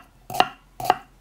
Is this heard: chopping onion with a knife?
yes